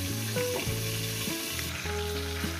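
Hilsa fish heads fry in oil in a pan, a loud steady sizzle close up with shifting tonal hiss, and no voices.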